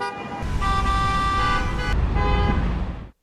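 Car horns honk in city traffic: one long sustained blast with overlapping horn tones, a short break, then a second blaring honk, loud and close over rumbling road noise.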